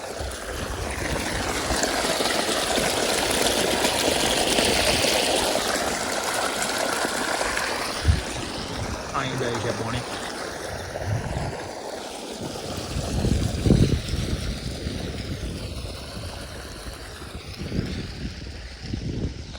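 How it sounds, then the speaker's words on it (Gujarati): Continuous rushing of flowing water, like irrigation water pouring through a channel, with wind buffeting the microphone and occasional rustling. "તમને બતાવું જો એટલું મસ્ત પાણી પડે છે ને"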